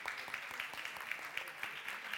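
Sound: applause

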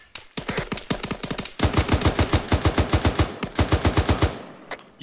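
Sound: gunfire in the video game Arma 3

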